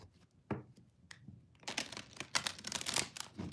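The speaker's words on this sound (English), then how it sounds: "If I can shuffle my cards." Tarot cards are handled and shuffled: a few sharp isolated flicks, then a dense run of rapid papery riffling and crinkling, soft and close with no talking.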